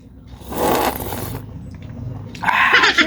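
Slurping of hot broth from a seafood soup of shark and squid, with two loud wet sucking bursts close up, separated by a brief quieter pause.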